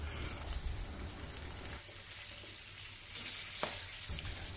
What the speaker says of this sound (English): Place the salmon in the pan over medium heat